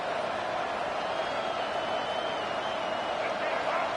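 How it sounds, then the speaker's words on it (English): Football stadium crowd roaring to rally its defense, a loud, unbroken wall of massed cheering and noise with steady intensity throughout, filling the whole space. "Listen to this crowd just shaking the girders of this place, trying to help their defense."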